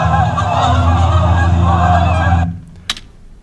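Geese honking loudly and continuously as a sound effect, layered calls lasting a few seconds before cutting off abruptly, followed by a brief faint click.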